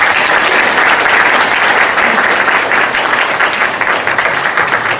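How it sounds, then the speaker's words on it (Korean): Audience applause welcoming lawmaker Yoo Seong-min to a Seoul National University economics seminar lecture: dense, steady clapping from a large crowd that holds at full strength throughout, with no speech over it. "우리 유승민 의원님 더 따뜻한 그 훈훈한 기운으로 한번 박수를 보내주시기"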